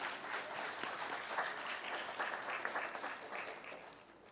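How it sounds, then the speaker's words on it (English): Audience applause at an annual general meeting: sustained, even clapping from a room full of people, fairly distant and soft, lasting several seconds. "Let's give them a round of applause."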